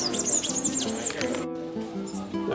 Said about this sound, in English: That's the female of the blackbirds, the local blackbird species.